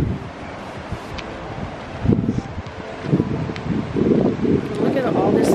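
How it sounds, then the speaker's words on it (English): Floodwater rushes at Wixom Lake after a historic flood, a broad roar that swells and surges, heavily buffeted by wind noise on the microphone. "And you can hear the water rushing."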